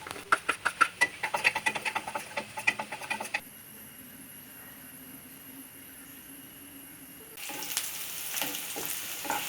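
Ginger, garlic and green chilli sauté in coconut oil while being stirred, with a run of quick scraping strokes, then a steady hiss and a return of louder sizzling with scattered clinks.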